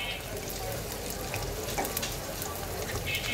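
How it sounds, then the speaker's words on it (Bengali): Chopped onion, garlic and green chilies fry in hot oil, a steady close hiss and sizzle with brief stirring scrapes, heard alone without talk. "তো এখন পেঁয়াজ রসুন কুচি আর হচ্ছে কাঁচা মরিচটাকে একটু হালকা ভেজে নেব।"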